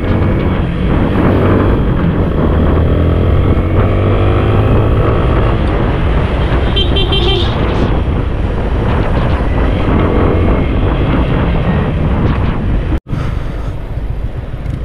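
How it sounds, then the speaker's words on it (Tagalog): Motorcycle engine droning steadily while riding and banking through turns, loud and close with heavy wind buffeting the microphone, a brief dropout near the end. "Tignan natin kung kaya ko pa mag-banking gamit itong motor"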